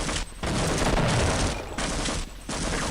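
Gunfire and grenade explosions in a video game, three loud, dense bursts of crackling shots and blasts separated by brief gaps.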